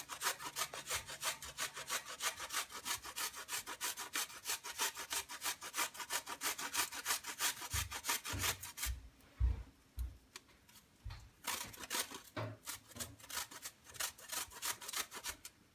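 Fresh ginger is grated straight over a cooking pan in quick, even rasping strokes; the strokes then turn sparse and irregular with small knocks, close and fairly quiet.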